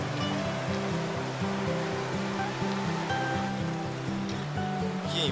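River water rushes steadily and broadly, a dense continuous wash heard up close at a riverside spot during an evening street-food outing, with a low rhythmic throb underneath and no talking.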